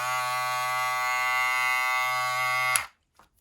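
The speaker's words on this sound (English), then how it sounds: "look at the power of this clipper." An Edo Clip X electric hair clipper runs with a steady, close, loud motor buzz rich in harmonics for under three seconds, then cuts off abruptly, followed by a faint click.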